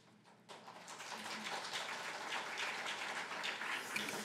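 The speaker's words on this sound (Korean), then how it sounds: "이렇게 박수로 환영해 주셔서 감사합니다" Applause from a church congregation welcoming a visiting missionary starts abruptly after a brief quiet moment and continues as steady, dense clapping filling the hall, with no voices over it.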